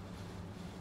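A train on the Arosa line in the Train Sim World 2 video game gives a brief, steady low rumble of running wheels and motor, moderately faint with no talk.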